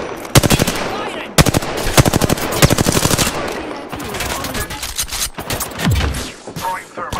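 Rapid automatic gunfire from the battle royale video game Apex Legends, loud bursts of rattling shots in several quick volleys with pauses and scattered single cracks between them.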